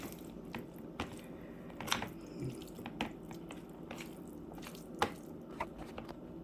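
Raw shrimp being tossed and coated with garlic jerk seasoning, giving soft, wet squishing and occasional sharp sticky clicks at an irregular pace, close and fairly quiet, with no talk.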